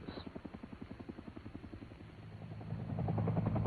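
A 1970-era Air Force UH-1 helicopter's rotor thumps in a steady rapid beat, a turbine whine rising and growing louder toward the end as the machine draws nearer.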